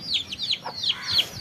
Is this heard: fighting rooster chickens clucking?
yes